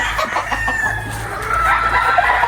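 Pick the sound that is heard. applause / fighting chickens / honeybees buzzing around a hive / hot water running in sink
fighting chickens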